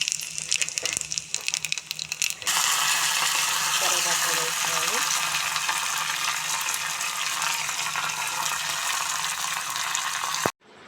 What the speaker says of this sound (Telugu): ఆయిల్ వేసుకున్నా తాలింపు వేసుకోవటానికి మిరపకాయలు